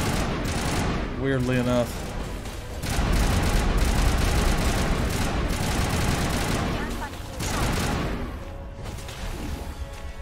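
Dense, continuous gunfire in the Mass Effect video game: rapid overlapping shots and booms in a loud, sustained barrage, with someone talking over the din.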